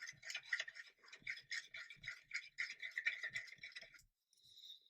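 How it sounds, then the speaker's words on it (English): Thick enamel paint stirred in a tin for airbrushing, a rapid run of close scraping, tapping strokes that stop abruptly, followed by a brief faint hiss. "it's going to give it a big stir to start with and get it all off the bottom"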